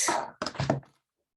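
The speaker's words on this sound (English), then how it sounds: "Sorry, I locked my door just to make sure there's no noise that comes in." A door being locked, a quick pair of close clunks and rattles from the latch and lock mechanism, followed by silence.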